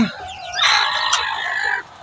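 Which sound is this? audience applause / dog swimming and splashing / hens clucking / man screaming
hens clucking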